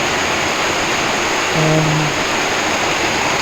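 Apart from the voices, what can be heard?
heavy rain and water continuously flowing during cyclone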